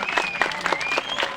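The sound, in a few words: applause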